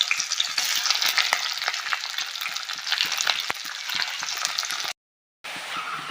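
Onion and green chilies sizzle hard in hot oil in a pan after a five-spice tempering, a steady close crackling fry with stirring scrapes that stops briefly near the end, then resumes.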